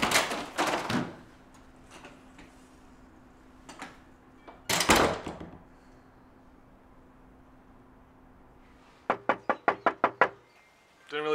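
Someone knocks on a door in a tense drama scene: heavy thumps at the start, a few scattered knocks, then a quick run of about seven sharp raps near the end, with faint voices.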